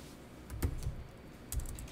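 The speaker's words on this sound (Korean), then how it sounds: "여기다가 그냥 타이핑을 하겠습니다." Keys on a computer keyboard clack in short, irregular bursts, a few distinct taps and small clusters heard up close with no talking.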